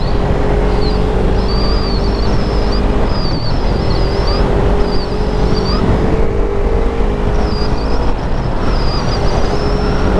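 A 2022 Kawasaki Ninja 300 motorcycle engine drones steadily while the bike is being ridden. Wind and road rumble sit under it, with some faint high-pitched chirps along the way and no speech.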